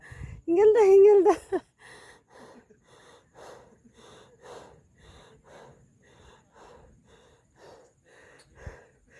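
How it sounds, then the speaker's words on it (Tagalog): Heavy panting after an opening strained, voiced gasp: quick, rhythmic breaths follow one after another, close and fairly soft, continuing steadily to the end. "Hingal na sila. Hingal na."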